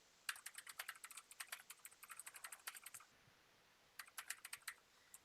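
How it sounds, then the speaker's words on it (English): Someone types on a loud mechanical keyboard with rapid clacky keystrokes in close bursts, a pause of about a second, then another short flurry, with no voices. "And it's a mechanical keyboard,"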